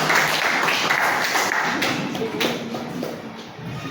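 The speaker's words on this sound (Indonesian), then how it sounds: "Tepuk tangan untuk Ade Maharani" A primary school class applauds a student with a burst of dense clapping from many hands in a room. The clapping gradually thins and softens over a few seconds.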